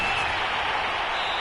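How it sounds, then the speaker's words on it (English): Crowd applause from a PS4 American football video game, a steady, loud wash of clapping and cheering that fills the short moment without pause. "We're going to give out a little applause on that play."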